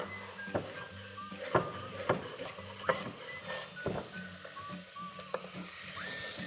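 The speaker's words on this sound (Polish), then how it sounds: "Pietruszkę dorzucamy do smażącej się cebulki" Chopped parsley and onion fry in a pan, a faint steady sizzle and hiss running throughout, broken by soft clinks and knocks of utensils against the cookware.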